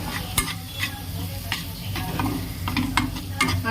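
Tomato mixture stirred in a cooking pan, with a spoon scraping and clinking in steady strokes over a continuous close sizzle of frying.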